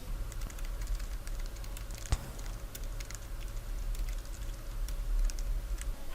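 Someone types steadily on a computer keyboard while filling in a biodata form in MS Word, with quick soft clicks and one sharper key strike, close and fairly quiet over faint room hum.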